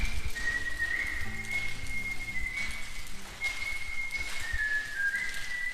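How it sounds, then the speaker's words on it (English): A person whistles a wavering, sustained tune inside a tunnel near Donner Pass, the echoing resonance steady over a dense rushing background hiss. "Any tunnel we go through, he has to whistle."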